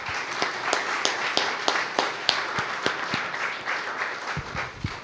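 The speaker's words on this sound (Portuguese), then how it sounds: "Uma salva de palmas ao Senhor." A church congregation breaks into applause, many hands clapping together in a dense, steady patter that runs the whole time before it thins slightly at the end.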